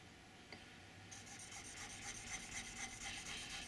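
A narrow woodworking chisel is sharpened with forward-and-back strokes, giving a soft, steady rasping rub that grows slightly busier partway through. The sound is faint and close, with no talk.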